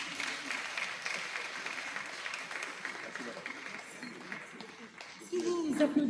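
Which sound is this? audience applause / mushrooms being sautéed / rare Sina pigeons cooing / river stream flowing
audience applause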